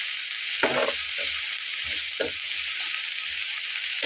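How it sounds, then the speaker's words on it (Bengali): Carrots and beans lightly frying in oil for a potato snack, with a steady soft sizzle beneath several short bursts of stirring scrapes spaced unevenly through the moment, close and moderately loud. "গাজর, সিম এগুলো ব্যবহার করতে পারবেন। সবগুলোকে একটু হালকা ভেজে নিতে হবে।"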